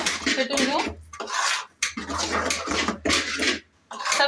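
Appe batter with salt and chilli whisked in a bowl, giving steady clinking and scraping of utensil against the bowl in a home kitchen, mixed with ongoing talk.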